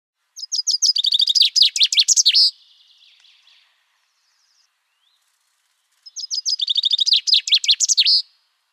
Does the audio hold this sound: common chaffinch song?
yes